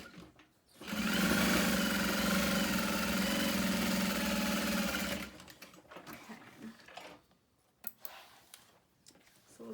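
A sewing machine stitches the Alexa bag, running steadily for about four seconds in a loud mechanical whir, then stopping and giving way to quiet handling clicks and fabric rustles.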